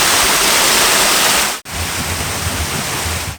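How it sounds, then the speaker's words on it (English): A woodland stream pours over small winter waterfalls in forest, making a loud, dense, continuous rush of water with a brief cut partway through before the flow resumes. "The stream is no longer just trickling, it's beginning to assert itself."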